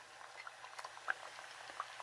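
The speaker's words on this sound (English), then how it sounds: "You fry it again." Flattened plantain slices frying a second time in hot oil for tostones, a soft steady bubbling sizzle with small crackles and pops, close but quiet.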